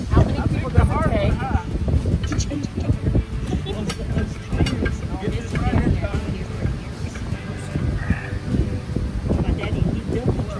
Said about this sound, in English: the wind is so crazy